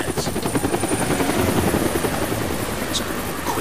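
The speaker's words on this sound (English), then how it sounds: "That's the helicopter chasing my friends." A helicopter in the Deadlight video game gives a steady, loud rotor thrum with a rhythmic chop that runs throughout, with no break.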